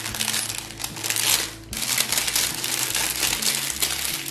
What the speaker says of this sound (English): They're shrink wrap bags.